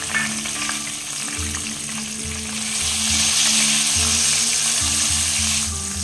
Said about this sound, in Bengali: এই তেলে একটু কালো জিরে ফোড়ন দিচ্ছি।